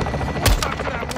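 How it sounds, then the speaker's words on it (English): An Apache helicopter lays down suppressing gunfire in the Call of Duty: Modern Warfare 2 video game, a brief loud burst of rapid shots with a heavy thump amid battle noise. "Apache suppressing them."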